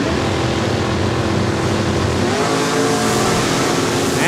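Drag race cars, a Rat Killer Plymouth Duster and an AMC Hornet, launch at Saskatchewan International Raceway, a loud sustained roar of engines revving hard, close and continuous with rising pitch.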